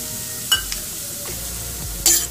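Dry-roasted rava (semolina) being stirred and fried in a pan, giving a soft steady sizzle with a few sharper scraping strokes of the spoon near the start and end.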